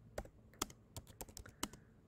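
Quick, irregular clicks of keys on a computer keyboard, heard up close and faint.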